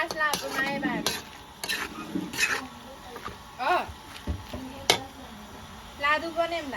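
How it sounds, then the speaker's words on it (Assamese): Bamboo shoot (khorisa) and pork stir-frying in a pan, with repeated clattering strokes of a spatula over a continuous sizzle, close by and lively; a few faint vocal sounds mixed in. "হিলাই হিলাই ভাজি থাকিম"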